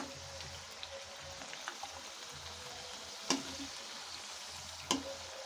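Puris deep-frying in oil in a kadhai for pani puri, a low, even hiss of bubbling oil with two sharp clinks of a utensil against the pan, fairly quiet and without speech.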